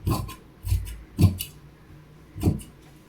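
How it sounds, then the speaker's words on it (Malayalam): Scissors cut through maxi dress fabric in four short, soft crunching snips at an uneven pace, close and fairly quiet with no talking. "അപ്പോൾ ഇത് നമ്മൾ കട്ട് ചെയ്തെടുക്കും കട്ട് ചെയ്ത് നോക്കും"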